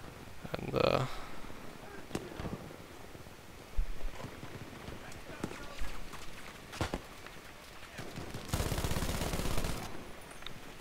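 Machine gun fire in a video game, with short bursts and scattered shots at moderate distance, one heavier sustained stretch near the end, and rustling and footsteps between the bursts.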